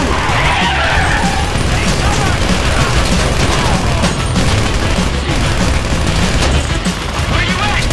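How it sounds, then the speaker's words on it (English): Dense, continuous bursts of rapid gunfire and booms from the video game GTA V fill the whole stretch, loud and chaotic, with scattered crashes mixed in. "You hear that gunfire?"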